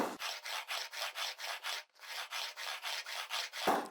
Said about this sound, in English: the file is at an angle to get a bevel